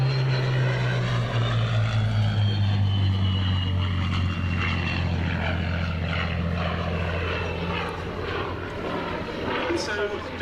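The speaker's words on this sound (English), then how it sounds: "In from the left, our Spitfire finale" A Spitfire propeller fighter flies past, its engine a loud, steady droning roar with deep throbbing harmonics that hold for the whole stretch.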